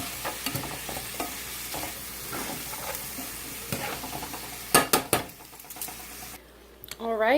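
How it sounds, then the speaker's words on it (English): White cooking wine hits a hot pan with a steady hiss and sizzle, punctuated by stirring scrapes and a few louder clatters near the end, with a voice speaking over parts of it. "I am going to add a little bit of white cooking wine, just to help kind of deglaze the pan"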